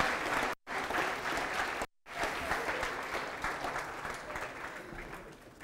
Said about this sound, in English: So with one last big round of applause, let's honor them as they take their seats.